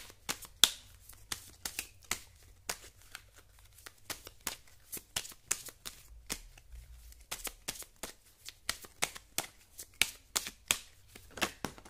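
A deck of tarot cards is shuffled by hand, giving a quiet series of sharp, close flicks and soft slaps in uneven bursts over several seconds.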